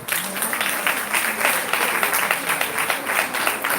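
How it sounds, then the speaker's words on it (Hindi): An audience at a geriatric workshop for World Alzheimer's Day in Pune breaks into steady applause, dense clapping filling the room for a few seconds without pause. "तालियां बजाएं।"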